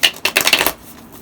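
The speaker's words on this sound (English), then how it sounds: "I'll shuffle a few times." Tarot cards being shuffled by hand in a few quick riffling bursts, close and crisp, then settling into quiet room tone.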